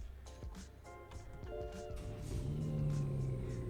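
A 2018 BMW 330e iPerformance hybrid sedan starts up. Its engine catches with a low rumble that builds and steadies into a smooth, fairly quiet idle, with no voices over it.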